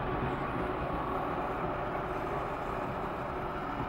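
A tram passes close by on a city street, a steady loud rumble of wheels and motor that holds throughout without talk.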